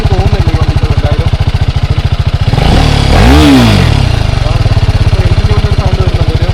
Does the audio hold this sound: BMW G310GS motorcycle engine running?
yes